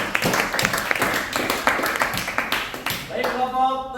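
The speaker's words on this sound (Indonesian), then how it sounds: "tepuk tangannya buat Sabik." A classroom audience claps for a presenter, with uneven, moderately loud clapping over several seconds while voices talk over it near the end.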